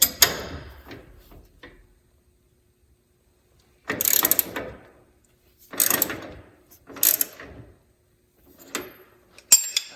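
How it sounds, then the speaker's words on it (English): A ratchet wrench loosens a nut on the rear toe-adjustment joint of a Polaris RZR Pro R or Turbo R, heard as several short, sharp clicking bursts separated by silent pauses. "So I loosen that nut on the back."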